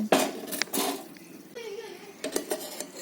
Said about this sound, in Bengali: এবার ঢাকনাটা খুলে আমি দেখে নেব রান্নাটা কেমন করে হয়েছে